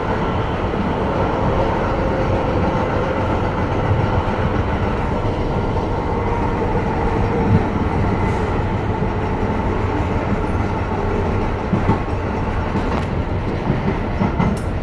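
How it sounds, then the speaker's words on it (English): An MBTA Green Line light rail train runs steadily at speed under a parkway bridge, a loud continuous rumble and rattle of wheels on track with faint clicks, no voices. "And the train is just zipping right through it."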